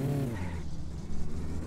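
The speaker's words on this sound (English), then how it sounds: "a car is coming up super fast" A car in My Summer Car rushes up fast, its engine a loud harmonic drone that drops in pitch as it nears, then settles into a steady rumble.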